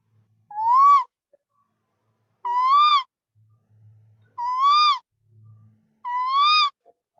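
A person mimics a bird call by voice, giving four evenly spaced, rising, whistle-like hoots, each about half a second long and clear against quiet background.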